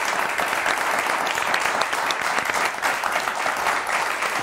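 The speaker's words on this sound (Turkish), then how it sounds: "Alkışlayalım bir onları da." Studio audience applause for contestants on the Turkish word game show Kelime Oyunu: a dense, steady wash of many hands clapping at once that holds loud and even throughout, with no voices over it.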